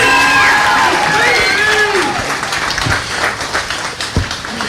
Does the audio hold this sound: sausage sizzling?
no